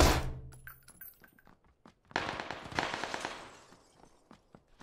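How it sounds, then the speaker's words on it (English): Bursts of Tommy gun submachine gun fire in a shooter video game, a loud opening volley followed by a dense clattering stretch in the middle and scattered sharper shots fading toward the end. "I'm using a Tommy gun, and it just owns better than any AR I've used."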